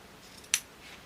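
A single quick snip of scissors trimming the fabric point on a zippered sewing project bag, one brief crisp cut in an otherwise quiet room.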